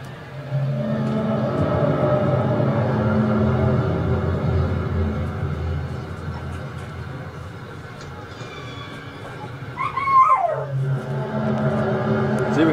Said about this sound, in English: It's even got my dogs barking.